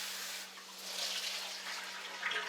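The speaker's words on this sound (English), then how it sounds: "I'm going to douse it with the cold water" Cold water is poured onto a very hot cooking pan, making a soft, steady rushing hiss that swells slightly midway. It is fairly faint and close, with no talking.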